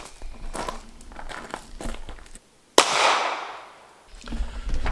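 A single sharp shot from a Glock 22 pistol fitted with an Advantage Arms conversion kit cracks out loud at an outdoor range, its report ringing and decaying over about a second, between stretches of rustling handling noise.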